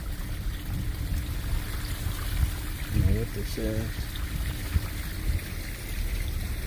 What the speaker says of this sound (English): What's the water irrigation system?